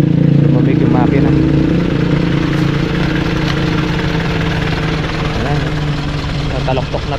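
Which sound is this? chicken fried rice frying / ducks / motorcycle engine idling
motorcycle engine idling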